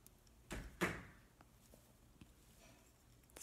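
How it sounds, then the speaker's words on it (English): A household door bangs shut in the background, two thuds close together, then quiet room tone with a few small clicks. "Sorry, that was the door."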